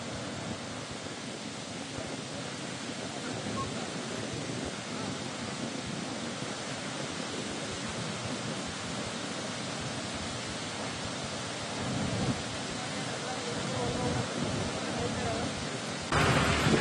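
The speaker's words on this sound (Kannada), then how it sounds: "ಆ ನಾರಿಹಳ್ಳ ತುಂಬಿ ಹರಿತಾ ಇದೆ." The Narihalla stream in the Sandur forest area of Ballari district runs full after heavy rain, giving a constant broad rushing roar that swells slightly toward the end.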